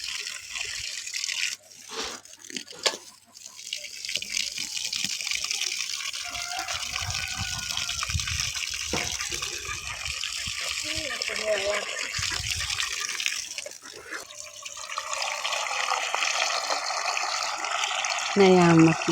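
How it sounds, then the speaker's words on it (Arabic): Tap water gushing into a container to soak chicken feed in a rural home, a continuous close splashing flow that shifts in tone over time, with a voice talking faintly underneath. "هنايا عمرت الماء باش نشمخ الماكلة للدجاج"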